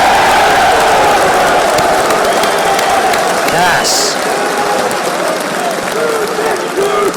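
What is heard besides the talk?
audience applause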